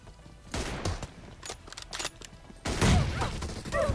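Rapid video game gunfire crackles in dense bursts and volleys, loud and close, with a heavier flurry of shots near the end and no clear speech over it.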